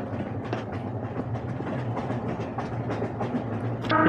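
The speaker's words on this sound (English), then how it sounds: "The train doesn't actually go that much faster than we can run." A train rolls along in the video game Dissolution, with a steady rumble and rhythmic clickety-clack of wheels on rails, moderately loud and continuous, and a brief sharper sound at the end.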